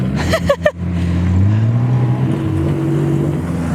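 A Toyota driving off-road passes close by, its engine droning and rising in pitch as it climbs, after a few brief knocks at the start.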